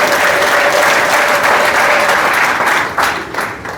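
A church congregation bursts into loud, sustained applause at a prophetic healing service, dense clapping filling the room without pause and easing slightly toward the end.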